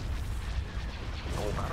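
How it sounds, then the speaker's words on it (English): Starship batteries firing during a space battle in Star Wars Thrawn's Revenge, a dense, rumbling barrage of distant booms and blasts rolling on continuously beneath a voice giving commands. "All batteries commence firing. Fire at will."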